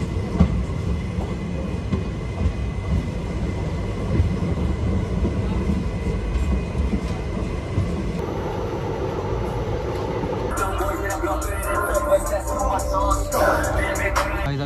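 Inside a passenger train riding through India, a steady low rumble and rolling rail noise continue throughout. Brighter hiss and rattling rise in the last few seconds.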